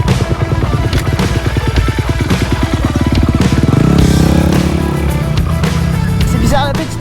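A small SRF motorcycle rides and drifts on dry asphalt, its engine note loud and close, droning with harmonic pitch that rises and swells through the middle before easing, steady throughout.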